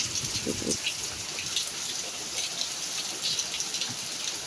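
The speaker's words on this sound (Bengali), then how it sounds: "প্রচণ্ড বৃষ্টি হচ্ছে দেখুন" Heavy evening rain falls steadily as a continuous hiss with scattered drops, heard from somewhat away at moderate level, with a brief low thump near the start.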